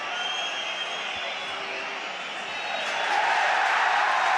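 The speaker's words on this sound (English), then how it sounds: "Huge cheer from the Emirates faithful" Arsenal supporters at the Emirates Stadium roar in a broad, sustained wash of crowd noise that swells louder toward the end, heard from within the stands.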